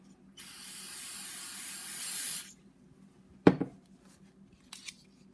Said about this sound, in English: Then it's time to clean this thing with some brake cleaner.